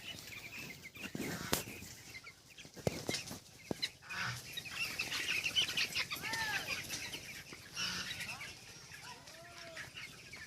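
Broiler chickens on a poultry farm of about 3300 birds cluck and call in a steady, busy chorus, with a few sharper knocks and occasional louder squawks rising over the flock.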